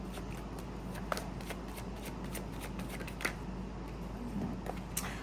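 Tarot cards are shuffled close up, a steady soft riffling with a few sharper snaps, alone and fairly quiet.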